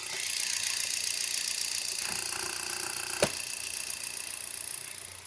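A 2015 Hyundai Xcent petrol engine idles close by with a constant hum and faint rattle from a vibrating cover, broken once by a brief sharp click partway through.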